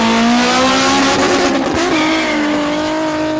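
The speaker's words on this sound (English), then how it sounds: "And the drag racing takes off at Dezzi Raceway." Drag cars launch at Dezzi Raceway during an unofficial exhibition event: a loud, close engine roar climbs in pitch, dips briefly, then revs up again, with a hint of tire noise.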